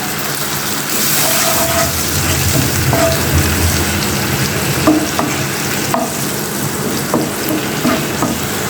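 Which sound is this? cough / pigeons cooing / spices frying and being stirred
spices frying and being stirred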